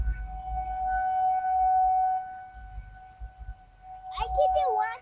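A civil defense tornado warning siren during a Saturday test sounds a loud, steady wailing tone that holds and then fades lower. A voice speaks over it near the end.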